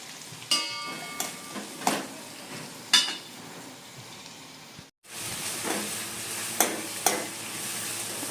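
Chopped vegetables stirred together in a hot pan: repeated scraping strokes over a soft continuous sizzle, with a brief break near the middle before the stirring and frying resume.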